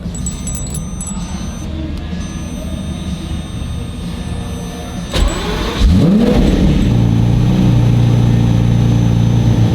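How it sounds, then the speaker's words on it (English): Cold start of a car engine fitted with a manual transmission swap, parked at a valet lot: a steady idle-like drone, then a sharp starter crank and the engine catching into a loud, rising rev that settles into a high, sustained idle. "this will be a full cold start with the manual swap"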